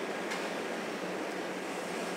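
Bengali egg kabiraji cutlets are dropped one by one into hot oil over high heat, giving a steady, even, hissing sizzle that runs without a break at moderate volume.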